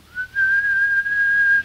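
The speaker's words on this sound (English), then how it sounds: "she heard the faint answering whistles outside" Faint whistles answer from outside during a tense night scene, a single sustained high whistle tone rising and holding steady for over a second, clear and alone.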